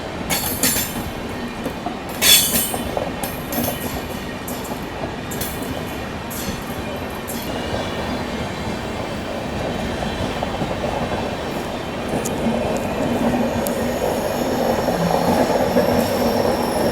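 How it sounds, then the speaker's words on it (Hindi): The CSMT–Nagpur Duronto Express rolls past with banker locomotives pushing from behind, a loud, close rumble of wheels and wagons with clattering rail joints and occasional metallic squeals, building steadily. "ये रहे दोस्तों बैंकर जो कि पीछे से धक्का दे रहे हैं दुरंतो एक्सप्रेस को, नागपुर दुरंतो।"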